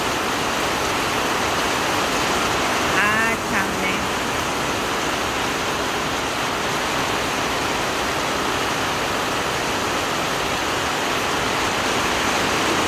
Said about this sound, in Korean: 비가 많이 오면은 거꾸로 역류를 해요